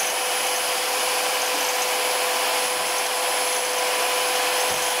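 A small handheld circular saw runs at idle, giving off a loud, constant high-pitched whine with a steady hum underneath. It stays unbroken for the whole stretch, with no voices.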